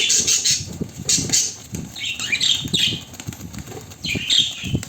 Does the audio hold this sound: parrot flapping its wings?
yes